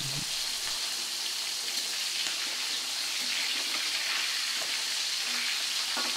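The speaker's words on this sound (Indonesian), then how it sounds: "Kita goreng, kita masukkan ke minyak yang udah panas." Salted fish frying in hot oil, a dense, steady sizzle and crackle close by that carries on without a break, with a brief clatter at the start and no talking.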